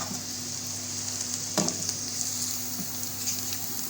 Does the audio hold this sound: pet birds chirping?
no